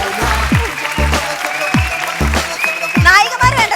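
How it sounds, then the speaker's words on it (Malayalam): Applause rises from the audience at a Malayalam comedy stage show and runs steadily throughout, with loud voices and shouting over the clapping. "ലാലേട്ടനാണ് കയ്യടിക്കണം."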